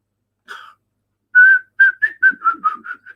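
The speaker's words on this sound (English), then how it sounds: "I was trying to whistle it there" A person whistles a short tune up close: one brief note, a pause, then a quick run of clear, bright notes.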